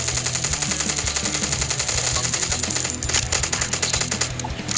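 Continuous rapid automatic gunfire in the game Last Island of Survival, a steady loud rattle of shots lasting throughout with no pauses.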